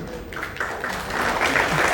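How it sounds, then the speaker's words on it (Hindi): An audience at a religious talk applauds with a dense, steady wash of clapping that swells slightly over two seconds, with no speech. "ताली बजाइए उन भक्तों के लिए।"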